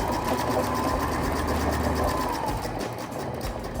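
A sewing machine overlocks stitches along the seam of a homemade dress, running in a continuous fast close-up whir that holds steady for almost four seconds before easing slightly at the end.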